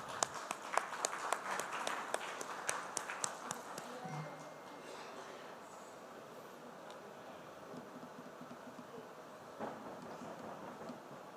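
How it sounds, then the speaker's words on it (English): A seminar audience on road safety gives a round of applause to welcome a speaker, a burst of clapping in the first few seconds that fades into a quieter room murmur. "with a huge round of applause, let's welcome Mr. Chaman Lal."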